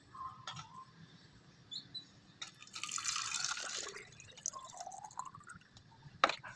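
Water splashes and pours for about a second into a DIY chicken drinker, with scattered drips before and after, a sharp knock near the end, and faint birds in the background.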